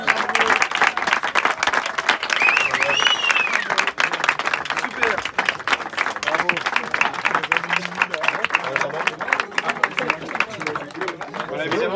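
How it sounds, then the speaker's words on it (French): An audience at an Ocean Fifty sailing podium ceremony breaks into dense, sustained applause, with a voice speaking over the clapping. "applaudissements pour eux s'il vous plaît"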